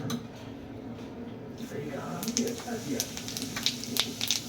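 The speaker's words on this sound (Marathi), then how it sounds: "तेल ऑलरेडी तापलेलं आहे, त्याच्यात आपण टाकूया जिरे" Cumin seeds crackle and sizzle in hot oil in a home kitchen where prawn and potato are being cooked, a steady frying hiss with sharper pops growing louder toward the end, close by, with no talking.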